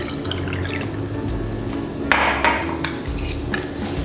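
Water poured into a jar holding calcium powder for pectin preserves, a steady close trickle with a brief brighter splash and a few light clinks of glass partway through.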